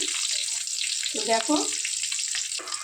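Eggs fry in a pan of oil with a steady, close hiss and sizzle, interrupted by brief low knocks and scraping as they are moved about.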